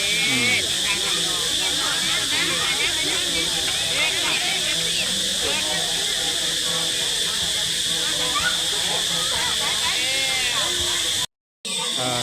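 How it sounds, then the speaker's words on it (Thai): Pa tong ko dough sizzles in hot oil in a pan at a festival food stall in Laos: loud, continuous frying hiss, close, with background voices and crowd noise. "เพิ่นกำลังเอาลงใส่กระทะ"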